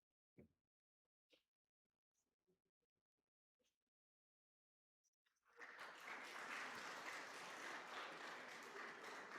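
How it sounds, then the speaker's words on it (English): After a few quiet, scattered knocks and shuffles, audience applause breaks out at a medical conference honouring doctors and continues as loud, steady clapping to the end. "A loud round of applause,"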